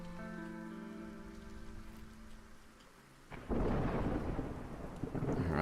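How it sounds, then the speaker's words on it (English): Rain and thunder in the video game Against the Storm: a sustained musical tone fades out, then heavy rain bursts in loudly with a rumbling thunder roll and keeps pouring steadily. "here comes the rain"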